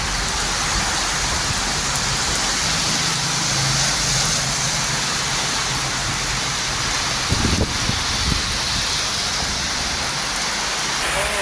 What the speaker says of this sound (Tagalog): Malakas ang hangin, malakas ang ulan.